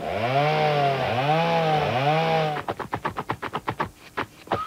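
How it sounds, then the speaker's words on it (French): A Black & Decker power screwdriver runs with a whirring motor whose pitch swoops up and down in repeated cycles. It then shifts to a fast, evenly spaced series of sharp ratcheting clicks, close and fairly loud. "Plus le réglage de tension est élevé, plus le tournevis est puissant."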